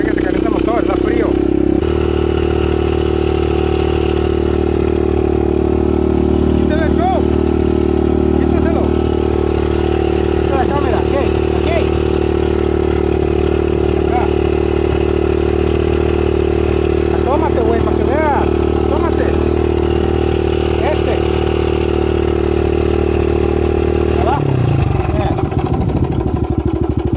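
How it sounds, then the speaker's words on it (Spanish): Cold motorcycle engine warming up at idle, a loud steady low rumble running nearly unbroken close by, with people talking over it and a brief change in engine note near the end. "Deja que se caliente el motor, está frío."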